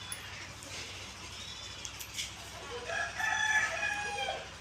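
A chicken at a village grandmother's home, heard among faint outdoor ambience with a few soft clucks and then a louder crowing call near the end.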